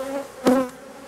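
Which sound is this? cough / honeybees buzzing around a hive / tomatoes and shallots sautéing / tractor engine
honeybees buzzing around a hive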